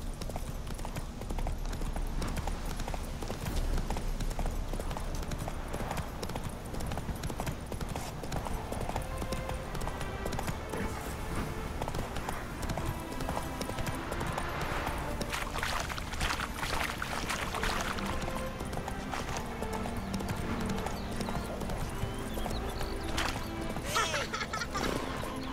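Hoofbeats of the horse Roach galloping in The Witcher 3: Hearts of Stone, a steady continuous clip-clop under dense game music and ambience, mid-distance and fairly loud.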